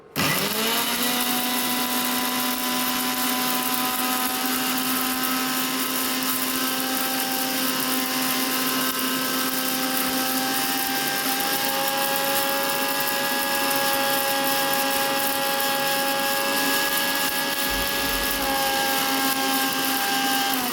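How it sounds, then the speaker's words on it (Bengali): Electric mixer grinder whirring steadily at high speed while grinding whole cumin seeds and dried red chillies into powder, a loud continuous motor whine with a slight pitch shift midway and no talk. "এরপর আমি মিক্সিতে গোটা জিরে আর শুকনো লঙ্কাটা পাউডার করে নিই।"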